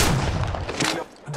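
Gunfire in a shooter video game where an EVA-8 shotgun is in use: a few punchy booming shots in quick succession, loud and close, fading at the end.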